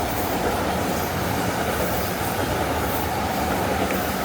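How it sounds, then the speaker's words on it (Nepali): A train pulls into a station in Japan near Kabukicho street, a loud, continuous roar of wheels and rail noise with faint squeals, close by. "एउटा ट्रेन आइरहेको रहेछ।"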